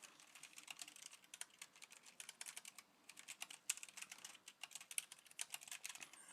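Quick, light typing on a computer keyboard, heard as close clusters of soft key clicks in uneven bursts with short pauses, quiet and with no one speaking.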